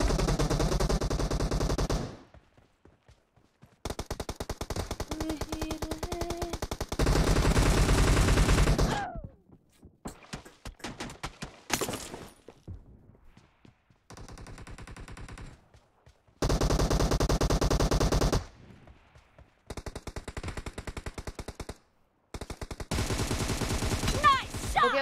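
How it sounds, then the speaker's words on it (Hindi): Bursts of automatic gunfire from the mobile battle-royale game PUBG Mobile come in loud, dense volleys of rapid shots, separated by pauses and brief single shots, with some faint speech between bursts. "मैं दो गोली चलते हैं, मुझे रीलोडिंग की आदत है।"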